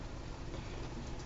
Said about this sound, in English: And it's a rainy day in Phoenix, Arizona